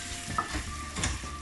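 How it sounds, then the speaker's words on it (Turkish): Okra, frozen and thawed, sizzles and fries in a pan while being stirred, with soft scraping strokes and bursts of hiss rising twice over a steady crackle, close and alone without talk. "bir taraftan da bamyamızı karıştıralım."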